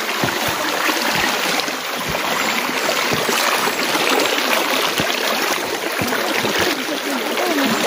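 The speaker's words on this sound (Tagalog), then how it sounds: "Meron pa tayong isang ano dito, tatawirin na ilog." A river being crossed on foot flows with a steady rushing, bubbling sound close by, fairly loud and continuous, with occasional splashes and knocks over the water.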